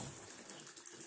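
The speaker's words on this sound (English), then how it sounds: "Shower's back on." A shower from a repaired Kohler push-button diverter valve runs steadily, giving a soft continuous hiss of water spraying, fairly quiet and unbroken with no voices.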